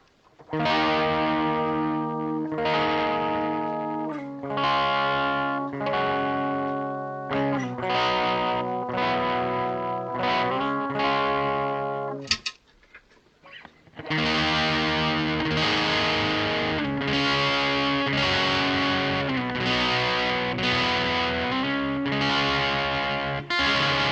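An electric guitar through a Dolamo vintage distortion pedal, distortion fully up, plays sustained chords, breaks off briefly with a scratchy pause, then resumes with loud, thick, buzzing chords.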